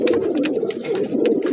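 Pigeons at a breeder's loft coo in repeated low throaty rolls, close and continuous, with several birds overlapping and no talking.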